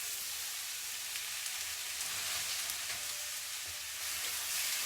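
Washed, still-wet spinach leaves hiss and crackle steadily in a hot pan, a continuous bright sizzle with small pops and no talking.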